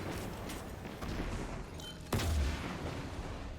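Gjallarhorn rocket launcher fire in Destiny 2, with a dense rumble of gunfire and explosions throughout and a sharp, heavy boom partway through.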